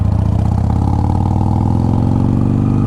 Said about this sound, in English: I need to check the packing in these mufflers because they have become very loud.